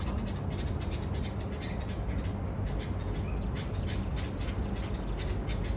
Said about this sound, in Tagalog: Ang ingay ng mga ibon dyan.